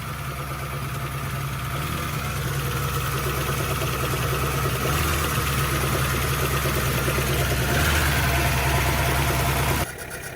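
A four-cylinder car engine idles steadily after a spark plug change, a close, continuous low rumble with a slightly uneven, rough running note that holds for about ten seconds before dropping off at the end.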